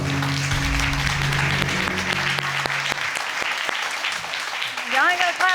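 A courtroom TV show's studio audience claps steadily, the dense applause thinning into scattered individual claps before a voice begins speaking near the end.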